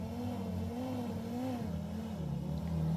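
A vintage Jeep engine revs and labors as it climbs a rock ledge on a winter 4x4 trail, its drone rising and falling in pitch, heard steadily at moderate distance.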